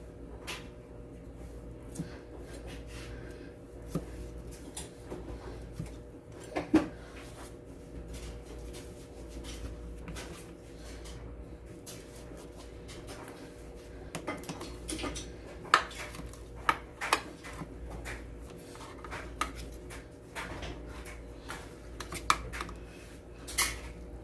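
Cutting into a cheesy hashbrown and Angus beef meatball casserole in a home kitchen: faint scrapes and knocks of a utensil against the dish, with sporadic sharper clinks over a low steady room hum.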